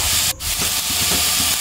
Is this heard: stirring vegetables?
yes